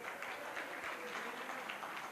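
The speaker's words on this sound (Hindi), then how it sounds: "एक बार और जोरदार से तालियां इनके लिए" Steady crowd applause fills the hall after a children's dance performance at a cooperative credit society's annual general meeting, dense and even for the whole stretch with no voices breaking through.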